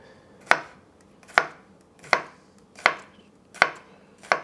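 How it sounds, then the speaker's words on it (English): A knife chops cucumber on a cutting board for a Persian cold yogurt soup, six crisp, evenly spaced thwacks close by, each ringing briefly before the next. "chop to this size, or even smaller"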